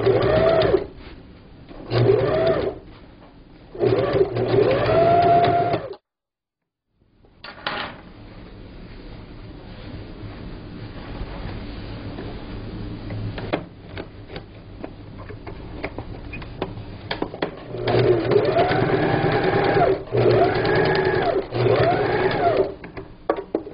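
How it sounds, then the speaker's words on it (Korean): A sewing machine runs in several short stitching bursts while a table cover is sewn along a marked line, with a quiet pause and low background hum between runs, fairly close and steady. "박음질 하시면 됩니다."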